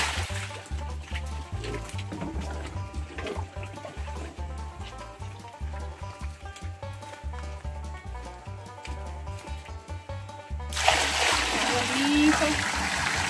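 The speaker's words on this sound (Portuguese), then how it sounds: "a água que sai do poço já vai levando a sujeira também que tá no chão" Well water pouring across a pigsty floor and washing away the dirt, making a steady splashing trickle under a rhythmic low thumping, with a brighter, louder rush of water near the end.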